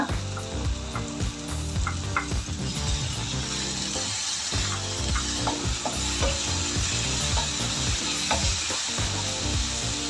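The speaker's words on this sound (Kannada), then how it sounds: "ಈಗ ಟೊಮೆಟೊ ಜೊತೆಗೆ ಚೆನ್ನಾಗಿ ಫ್ರೈ ಆಗಬೇಕಿದು. ಆಯಿಲ್ ಬಿಟ್ಕೊಳ್ಳೋ ತನಕ, ಹಸಿ ವಾಸನೆ ಹೋಗೋ ತನಕ ಇದನ್ನು ಸ್ವಲ್ಪ ಚೆನ್ನಾಗಿ ಫ್ರೈ ಮಾಡಿ" Onion, ginger and tomato fry in oil in a pan for a dahi aloo curry, making a continuous close sizzle with scraping stirring strokes and no voices.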